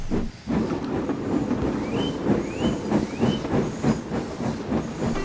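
A steam locomotive chuffs steadily with rhythmic hissing puffs and rumbling wheels, the beat repeating evenly throughout, with a few faint rising squeals above the chugging.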